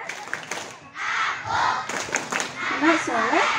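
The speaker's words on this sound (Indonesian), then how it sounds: "Tepuk anak soleh." Children at an Indonesian gathering performing the Islamic clapping chant Tepuk Anak Soleh, with rhythmic group clapping and shouted chanting voices, lively and fairly close, mixed with an adult's voice.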